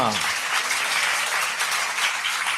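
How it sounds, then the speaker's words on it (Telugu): A congregation claps during a Christian sermon, producing a thick, continuous wash of many hands that stays loud and even throughout, with no pauses. "కొట్టిప్పుడు చప్పట్లు"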